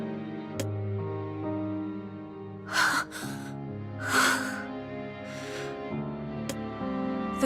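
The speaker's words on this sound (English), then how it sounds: "Her breathing remains ragged" A girl's ragged, gasping breaths in the NieR Reincarnation video game, a few heavy breaths and sharp inhales over soft sustained music.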